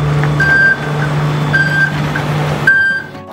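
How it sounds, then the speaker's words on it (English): An Edmonton electric city bus sounds its audible turning warning while cornering: a repeating electronic beep tone with evenly spaced pulses over a steady low hum, loud and close. "Our electric buses have an audible signal when you're turning corners so they can be heard at intersections when they make turns."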